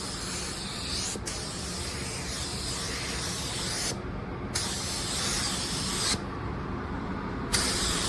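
A spray gun lays a second coat of paint onto car body panels, a steady broadband hiss running almost continuously with two short breaks where the trigger is released, close and fairly loud with no talking.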